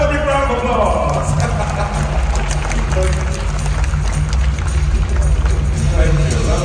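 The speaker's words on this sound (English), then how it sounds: "Just waiting for another big round of applause." Sustained crowd applause at a birds-of-prey flight show in a Singapore bird park, many hands clapping in a continuous wash with a low background hum.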